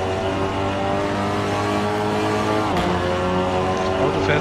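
A Seat Leon TCR race car engine in Assetto Corsa drones steadily and loudly throughout, a rich harmonic hum that dips briefly at a gear change before pulling back up.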